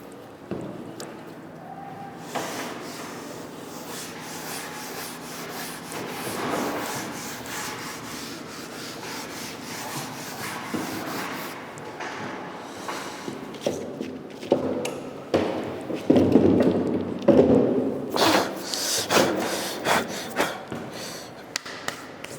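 Writing is rubbed off a classroom board with a duster in a lecture hall, a continuous scratchy scrubbing that grows louder and more vigorous toward the end.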